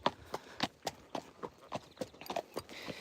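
Black Friesian horses walking on a hard surface, with clear, close hoof clip-clops in an even, unhurried rhythm, alone without speech.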